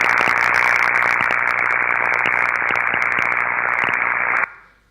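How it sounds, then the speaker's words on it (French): Corona discharge on electrical insulation at 50 Hz, picked up with an ultrasonic recording: a steady, loud buzzing hiss with a regular low hum and repeated sharp crackles, running alone before stopping abruptly near the end. "L'effet couronne, à l'écoute, ça ressemble à ça."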